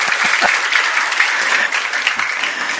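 Audience applause at a Maulid Nabi religious gathering, a steady dense wash of many hands clapping, loud and close, lasting the whole stretch with no talk over it.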